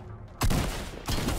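Two heavy, booming shots from a sniper rifle in Fortnite ring out about half a second apart, each loud with a long tail.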